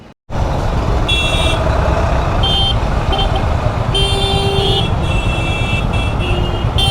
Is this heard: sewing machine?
no